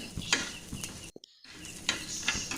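Dried red chillies fry in a pan for a wild mango curry, making a soft sizzle broken by several clinks of a stirring spoon and a brief near-silent gap.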